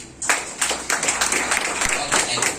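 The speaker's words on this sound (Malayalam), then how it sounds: "കൈ അടിച്ചോളൂ, കൈ അടിച്ചോളൂ, കുഴപ്പമില്ല." An audience claps at a plan presentation by the founder of GTS Tirur, a quick burst of scattered hand claps near the listener, with a voice talking over the applause.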